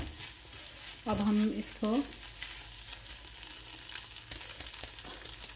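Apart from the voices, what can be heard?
scrambling eggs in a frying pan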